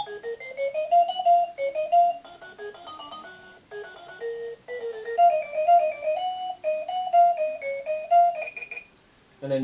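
A Smiggle talking alarm clock plays its second melody, a longer tinkling electronic tune of quick bright notes, close and steady, cutting off abruptly near the end with no voices.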